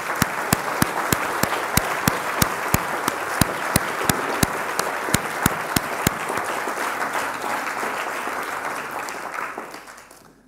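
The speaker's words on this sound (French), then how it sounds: "Merci beaucoup de votre soutien et de vos applaudissements." An audience applauds at a university opening ceremony for the 2018-2019 academic year, a full, sustained roar of clapping, with a few sharp, distinct claps standing out during the first six seconds before the sound tapers off near the end.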